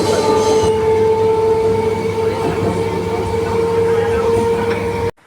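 A Vande Bharat train at Uluberia railway station gives off a loud, steady rumble with a sustained tonal whine throughout, ending abruptly in near silence.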